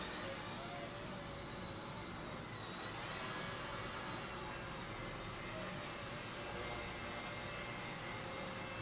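A small RC helicopter motor whines steadily at a high pitch with a continuous buzzing drone, close by and constant, briefly dipping in pitch partway through.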